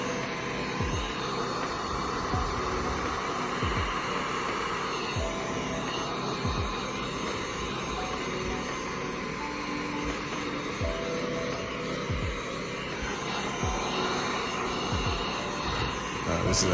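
Heat gun blowing hot air over window tint on a car door glass, a steady broadband whoosh that runs the whole time with small shifts as the gun is moved along the bottom edge.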